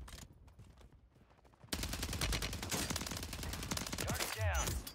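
Automatic gunfire from a BAS-P rifle in the shooter Warzone 3 erupts in a dense rapid burst after a quieter opening, then rattles on continuously and up close.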